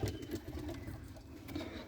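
A flock of pigeons, among them silver pigeon chicks, makes soft low continuous cooing and murmuring close by, with no talk over it.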